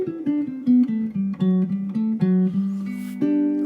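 A scale picked note by note on a guitar, about fifteen quick single notes at an even steady pace stepping through the range, clear and close with no voices.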